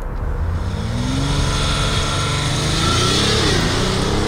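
A BMW X6 M50d diesel accelerates hard, its engine note rising steadily as a loud, continuous drone that stays up close throughout with no talking over it.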